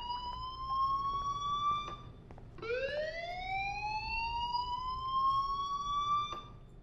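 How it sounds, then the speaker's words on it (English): A fire alarm in the video game Life is Strange rings as a loud, continuous electronic tone that cuts off briefly around the middle, then slides back up and sounds again, with no talk over it. "Hey, do you hear that fire alarm?"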